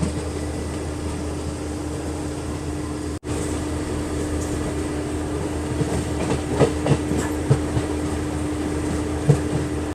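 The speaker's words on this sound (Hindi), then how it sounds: "और ये देखो अभी अपनी ट्रेन पहुँची है महिनाथपुर रेलवे स्टेशन" A Nepali passenger train runs on the rails as it pulls into Mahinathpur railway station, with a steady rumbling roll, a low hum and scattered clicks and clanks growing near the end.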